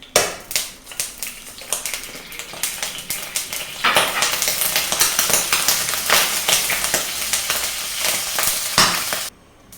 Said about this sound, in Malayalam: എണ്ണ ചൂടായി കഴിഞ്ഞാൽ ആദ്യം കടുക് ഇടുക.